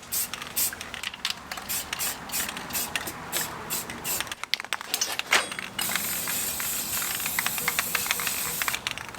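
A spray gun paints the tube front end of a long-travel Miata, hissing in short irregular bursts at first, then in a longer continuous spray, close and fairly loud.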